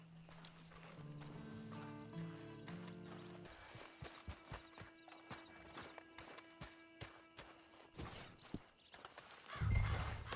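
Horse hooves clip-clop in Red Dead Redemption Online: a steady rhythmic walking gait of distinct hoof strikes follows a brief musical or voiced passage, and a short spoken word comes near the start.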